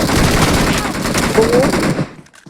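Rapid automatic gunfire in the mobile shooter PUBG Mobile rattles loud and continuous for about two seconds, then cuts off abruptly, with a voice faintly underneath.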